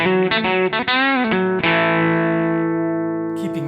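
An electric guitar runs through a Blackstone Appliances overdrive pedal set for mild breakup: a few quick choppy chords, then one sustained, gritty chord that rings out and slowly fades, heard alone.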